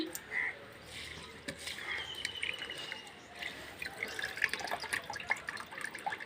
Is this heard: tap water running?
yes